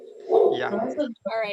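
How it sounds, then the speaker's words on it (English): A dog barks and yips close by during a live online session, a short burst of sharp barks mixed with someone speaking briefly over it. "I apologize for the barking dog."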